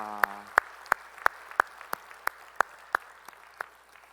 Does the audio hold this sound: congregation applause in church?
yes